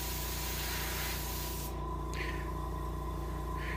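Paint is sprayed onto a brown bullhead catfish mount for taxidermy, a steady close hiss running the whole stretch over a low machine hum, briefly easing and then resuming.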